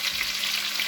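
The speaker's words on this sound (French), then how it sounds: "Je vais ajouter encore un tout petit peu d'eau." Water poured into a hot home-cooking pan sets off a steady, bright sizzle that fills the whole short moment, close and even, with no voices.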